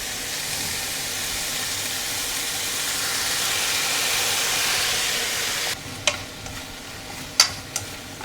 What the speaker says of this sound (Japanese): ズッキーニとしめじの炒め物です。